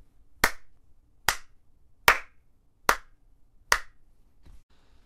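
Five sharp hand claps at a steady pace, close and distinct, with quiet gaps between them.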